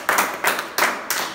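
Four sharp, evenly spaced hand claps ring out close by in a quick, steady rhythm, each with a brief decay, during a talk on fornication, with no voices over them.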